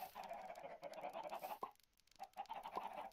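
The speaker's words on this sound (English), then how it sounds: "Oh, look at my chickens." Chickens clucking close by on a farm, a steady run of soft calls with a short lull in the middle before the clucking resumes.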